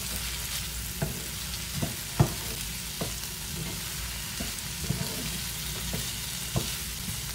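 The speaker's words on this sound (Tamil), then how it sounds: "ஸ்ப்ரிங் ஓனியன், வெங்காயத்தாள், இதெல்லாம் நல்லா மிக்ஸ் பண்ணலாம்" Puttu kothu with green chillies and spring onions is stirred in a hot pan. A constant frying hiss is broken by irregular utensil scrapes and taps, close and moderately loud.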